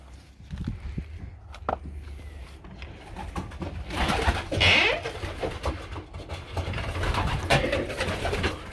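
Pigeons coo repeatedly inside a pigeon loft, soft throaty calls layered over shuffling, footsteps and rustling movement nearby, with a few sharper knocks and flutters.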